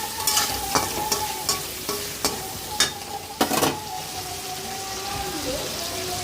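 Tomatoes and salt for chicken pickle are stirred in a hot pan, with a steady run of rhythmic spoon scrapes about every half second over a constant, loud sizzle.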